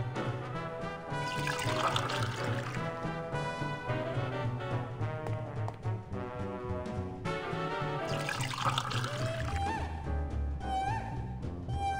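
Coffee poured in the adventure game Grim Fandango Remastered, a faint stream of liquid gurgling into a cup beneath louder background music.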